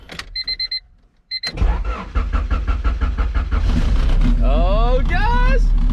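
A Honda Civic with a swapped H22 engine, newly fitted wiring harness and jump box attached, cranks briefly after a few chimes, then catches and settles into a loud, steady idle close by.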